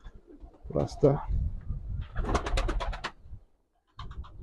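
Pigeons in a coop coo in low, repeated burbling calls close by, with someone speaking briefly between the coos.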